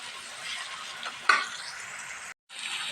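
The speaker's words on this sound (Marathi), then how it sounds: "छान असं हे मिश्रण भाजत आहे" A chilli, garlic and coriander paste frying in a pan for zunka, a continuous close sizzle with a sharp stirring scrape partway through and a brief dropout near the end, no speech.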